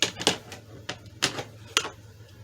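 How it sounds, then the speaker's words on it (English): Scissors cut a strip of old player piano paper roll in a handful of crisp, separate snips, close and fairly quiet, with short pauses between the cuts. "So now all that's left is to cut this out."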